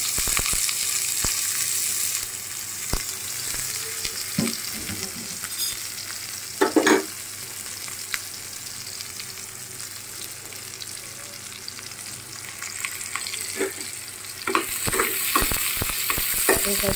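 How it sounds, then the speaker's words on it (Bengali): Onion and garlic frying in oil in a pan, a continuous sizzle with intermittent scrapes and clicks of a stirring utensil, close by, with a louder burst of sizzling near the end and no speech. "পেঁয়াজ রসুন তো দিছি, আরো কিছু পেঁয়াজ দিব আমি, আবার আর একটু তেল দিব"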